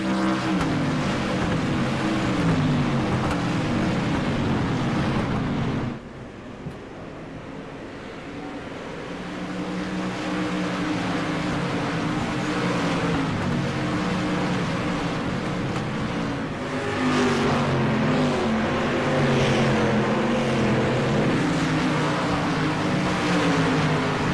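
Race cars at Thompson Speedway roar past in a dense, continuous engine wash. The sound dips briefly partway through and then builds back to a loud, sustained drone.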